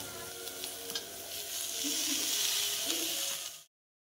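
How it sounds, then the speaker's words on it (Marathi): Mashed potato being sautéed in oil in a kadhai, a close steady sizzle with a few scraping stir sounds that swells slightly before cutting off abruptly. "छान बटाटा कुस्करून घेतला आणि कढईमध्ये परतून घ्यायचा"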